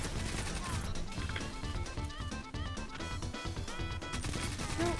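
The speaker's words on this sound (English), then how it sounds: "Listen to all those SMGs." Rapid SMG gunfire in Destiny 2's Iron Banner PvP mode, dense overlapping bursts from several weapons firing continuously throughout, loud and busy with other game effects mixed in.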